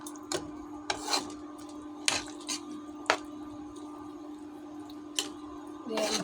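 Jackfruit curry being stirred in a pot, a few scattered scrapes and knocks of a spoon at close range over a low steady hum, with brief talking.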